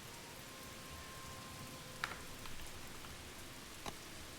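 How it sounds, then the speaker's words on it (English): Rain falls steadily inside a roofless house in the video game Polylithic, a faint even hiss of drops with a couple of brief soft taps, no voices. "as you can see, it's raining inside"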